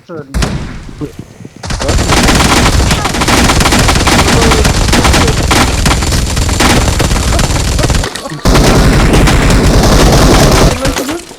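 Loud, dense bursts of rapid gunfire from a weapon in a video game fill nearly the whole stretch, with a short pause before the shooting resumes at full intensity.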